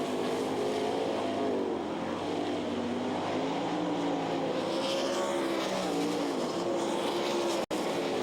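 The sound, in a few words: sprint cars racing at Knoxville Nationals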